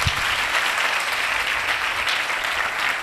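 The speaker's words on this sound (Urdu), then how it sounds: "زوردار تالیاں بجائیں" A church congregation at a worship service applauds loudly, a thick, steady roar of clapping hands that carries on evenly from start to finish with no voices over it.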